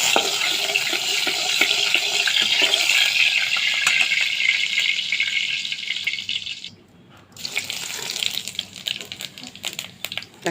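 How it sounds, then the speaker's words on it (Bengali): Whole cumin seeds splutter in hot oil for a tengra fish curry, a busy close crackle and hiss that drops out for a moment near the end and then resumes. "জিরে ফুটে গেছে"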